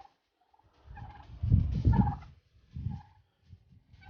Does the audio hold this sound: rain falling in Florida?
no